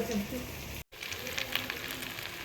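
Potatoes and chicken being fried and stirred in a wok at home, a soft continuous sizzle with a brief dropout, faint and steady, with a voice talking over it.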